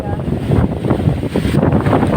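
Strong mountain wind buffets the microphone in heavy, gusting bursts, a loud rushing roar close up with no clear voices.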